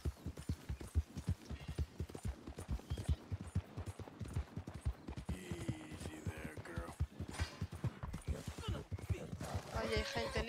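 Rapid, rhythmic hoofbeats of a horse in a video game clip-clop continuously at a gallop, fairly quiet, with occasional voice and other game sounds mixed in.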